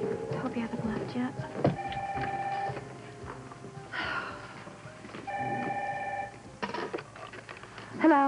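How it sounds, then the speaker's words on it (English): An indoor telephone rings in two bursts of steady electronic trilling separated by a pause, with people talking around and between the rings. "Bobby, answer the phone."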